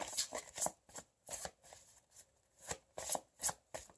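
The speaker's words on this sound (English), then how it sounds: "We'll go with the Blue Angel Dorian Virtue cards" A deck of angel oracle cards is shuffled for a tarot reading, producing close, crisp riffling bursts that repeat in an uneven rhythm with short quiet gaps between them.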